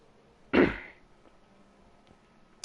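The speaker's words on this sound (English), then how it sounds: "Excuse my coughing." A single short cough, close and fairly loud, followed by quiet background.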